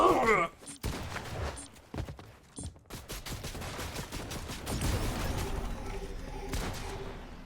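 Rapid gunfire bursts crackle through a Squid Game map battle in a shooter game, several sharp shots early on giving way to a dense, rumbling stretch of continuous firing and impacts.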